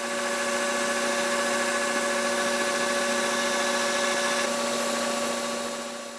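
A small grinding wheel shaping a faceted knife handle, giving a steady, loud motor whine with a constant tonal hum that holds unbroken throughout and eases slightly at the end.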